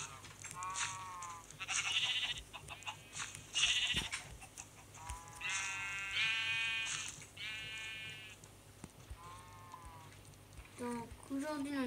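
Sheep in Minecraft bleat repeatedly in short wavering calls, several overlapping, over low background noise, with a voice talking briefly near the end.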